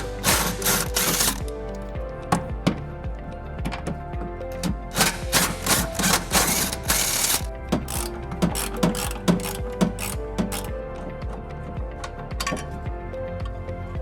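Ratcheting clicks from a socket wrench loosening the four tow hook bolts on a 2008 Nissan Rogue, with rapid bursts of metallic pawl clicking and occasional clinks, close and steady, with no talking.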